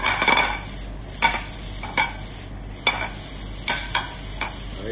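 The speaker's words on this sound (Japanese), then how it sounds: "よくしんなりするまで炒めてください。" Vegetables stir-fry in a pan with butter and soy sauce to follow, a steady sizzle broken by a few soft scraping strokes of a spatula at regular intervals, close and alone.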